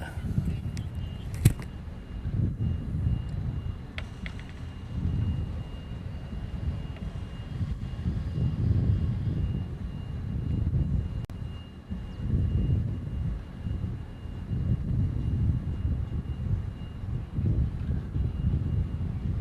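A Boeing 737 jet comes in to land, its engines a low, steady rumble with surging swells, heard from a distance through wind noise, with faint radio chatter at times.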